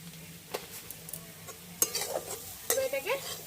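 Chana dal filling stirred and dry-roasted in a pan, a quiet low sizzle broken by several sharp spoon scrapes and clinks against the metal, no talk.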